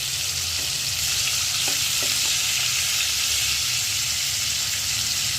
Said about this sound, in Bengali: মাছ ভাজা হয়ে গেছে, এবার এক এক করে তুলে নেওয়া হবে।